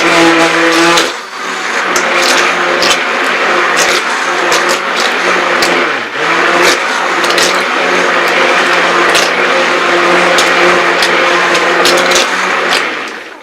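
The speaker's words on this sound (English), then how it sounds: "we mix the liquid oils with the solid oils with our stick blender" A stick blender whirs continuously while mixing liquid and solid oils for a tea tree and orange clay soap bar, a loud steady motor drone with frequent clicks and brief dips as the blade moves through the mixture.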